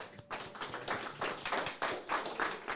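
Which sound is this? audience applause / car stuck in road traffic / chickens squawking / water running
audience applause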